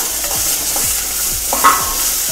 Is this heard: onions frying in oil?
yes